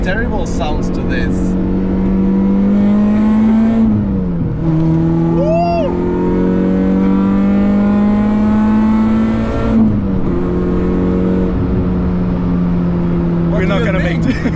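Cheap project car's engine droning steadily while driving, with the pitch rising and dropping at gear changes, accompanied by rattles and a brief squeal, as people talk inside the cabin.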